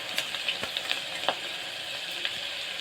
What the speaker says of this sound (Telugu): ఉల్లిగడ్డ ముక్కలు వేసుకోవాలి. వేసుకున్న తర్వాత మంచిగా ఒకసారి కలుపుకోవాలి.